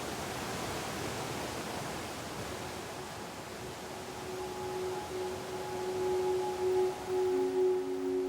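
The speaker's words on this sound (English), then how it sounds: "Afterwards, they go underneath the waterfall." Waterfall in the Amazon rainforest of Ecuador, a soft, steady broadband rush of falling water, fairly quiet and continuous, with faint tonal hums emerging toward the end.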